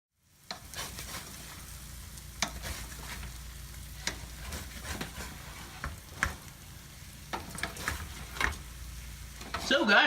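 Eggs frying in a pan for a country breakfast, a steady close sizzle with scattered clicks and scrapes of a utensil moving through it, faint talk in the background.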